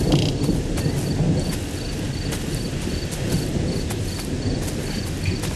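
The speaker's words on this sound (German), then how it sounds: "Es ist stockfinster und regnen tut's auch noch." Rain falls through a pitch-dark night in a steady, close hiss, with crickets chirping faintly throughout.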